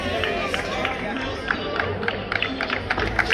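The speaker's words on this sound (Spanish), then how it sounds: "Ahí tenemos ese fuerte aplauso para ellos." Outdoor crowd at a Tenerife running race awards in Playa de las Américas applauds the top finishers, scattered claps and cheers over general chatter and babble, moderately distant and fairly quiet.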